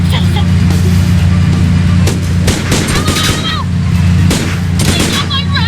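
Rapid, loud bursts of video-game gunfire from Sam & Max Beyond Time and Space erupt in quick clusters, mixed with cartoon voices shouting over a droning background hum.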